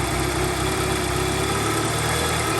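A 4G63 car engine idles steadily and loudly with a constant low hum and vibration, no talking.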